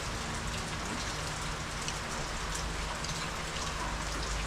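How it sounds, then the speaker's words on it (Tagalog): Rain falls in a steady, dense hiss on surfaces close by, even and unbroken, with no voices. "umuulan, malamig"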